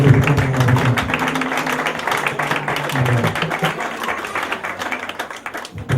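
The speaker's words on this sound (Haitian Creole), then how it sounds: "Applaudis bon Dieu." A congregation at a church gathering claps in applause, a dense, steady patter of many hands that thins and fades toward the end, with voices mixed in.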